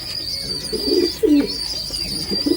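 Domestic pigeons kept for sale coo close by in low, throaty repeated calls, with a few soft chirps and a faint steady high tone in the background.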